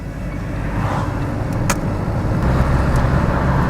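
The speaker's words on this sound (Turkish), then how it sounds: "Tam debriyaj yapıyorum. 3'ten direkt arkaya doğru çekiyorum ve 4. vitese geçiş sağlıyorum." A car engine hums steadily and close during a shift from third to fourth gear, a broad road-noise drone that holds through the moment with no talk over it.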